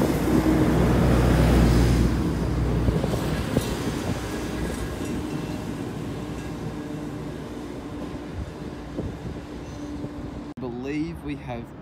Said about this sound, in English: Approaching platform number 2 at Coniston, we have a 4-car Tangara